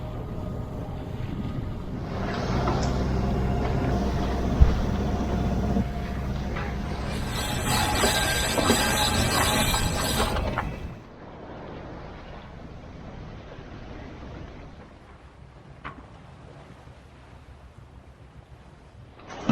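Wind rushes and water hisses loudly around a sailboat under way on a fast sail in about 15 knots of breeze, then drops to a calmer, steady rush of wind and water.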